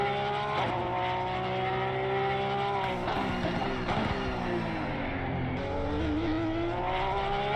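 Porsche and BMW GT3 race cars dueling at Laguna Seca in Assetto Corsa Competizione, engines wailing and shifting pitch together, loud and continuous with brief tire scrubbing, no voices.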